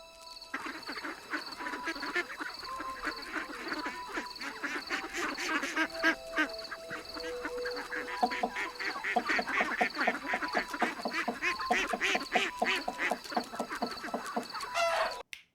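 A flock of ducks quacks nonstop and fairly close, the calls overlapping in busy, irregular bursts with a few honking, goose-like tones mixed in, and nobody speaks.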